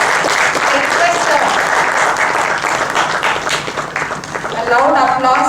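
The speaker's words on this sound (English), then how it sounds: "a loud applause." Loud, sustained applause from an audience in a hall at a medical oration as a guest is called to the dais, dense clapping throughout with a brief dip before swelling again.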